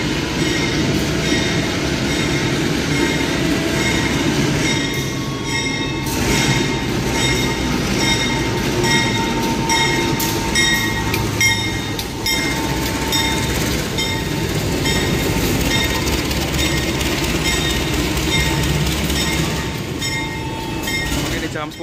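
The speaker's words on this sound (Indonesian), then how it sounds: "ini dia keretanya masuk nih" KA Pasundan passenger train pulling into a crowded station, a loud steady rumble of rolling carriages with rhythmic wheel clatter and occasional squeals lasting throughout, faint voices in the background.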